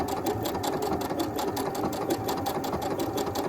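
A sewing machine runs steadily while stitching a quilt block, its rapid needle chatter making a fast even mechanical rhythm close by throughout, with no voices.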